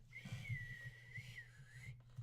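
A person whistles one long sustained tune, the steady pitch gently sliding up and down, over a low background hum, close and clear, breaking off near the end.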